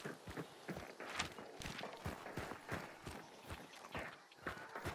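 Horse hooves in Hunt: Showdown, a steady quick clip-clop of hoofbeats on the ground, fairly close and continuous throughout with rhythmic thuds, no voices.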